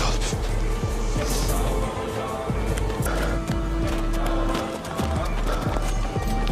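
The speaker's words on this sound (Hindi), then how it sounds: "तुर्गुत सिपाहियों से कहता है, अपने घोड़े यहाँ बांध दो।" Horses move through a forest, their hooves clip-clopping in an irregular rhythm close by, with a whinny and jingling tack over a dense, loud background.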